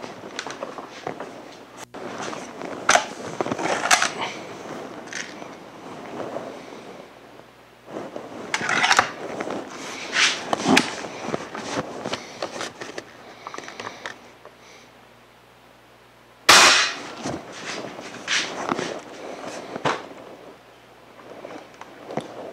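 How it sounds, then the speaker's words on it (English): A Walther Talon Magnum .177 spring-piston air rifle is handled close by: mechanical clicks and rattles of loading and breaking the barrel, then a single sharp loud shot after a quiet pause, followed by more handling noise. "load the pellet in the breech, return the barrel, Sight the gun, set the safety to the fire position, and gently squeeze the trigger to fire the rifle"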